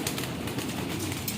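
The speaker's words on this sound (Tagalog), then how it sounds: "Yun, napakaganda ng ibon." Pigeons in a loft, heard as soft cooing and faint wing flutters over a steady, close hum of bird noise, with no speech.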